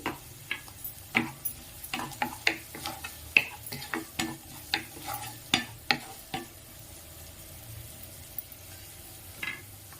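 Onions, green chillies and turmeric frying in a pan for pumpkin curry, with a steady soft sizzle broken by a run of sharp utensil clicks and scrapes from stirring during the first six seconds, then quieter frying.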